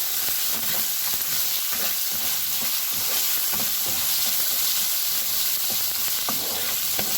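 Chicken frying in hot oil makes a dense, constant sizzle, close and loud, with scattered crackles and a faint stirring scrape running under it.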